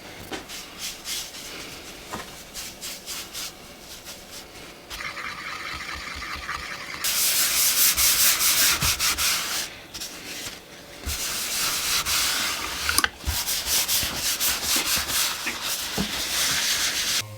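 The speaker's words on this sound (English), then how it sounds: "The oak I'm using is very open grained, so I'm using some grain filler on this." Grain filler is rubbed into open-grained oak in steady, close scrubbing and rasping strokes, coming in bursts with brief pauses and louder stretches partway through.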